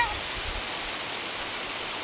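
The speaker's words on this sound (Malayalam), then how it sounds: "നല്ല മഴ കേട്ടോ." Heavy rain falls outdoors during a walk, giving a steady, dense hiss that stays even and unbroken throughout, with no other clear sounds standing out.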